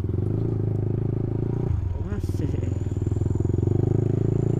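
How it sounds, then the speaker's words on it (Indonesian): A motorcycle engine idles while warming up in the morning, a low steady putter that runs throughout, with a brief clatter and scrape near the middle and light talk in the background. "pokoknya ini manasin motor"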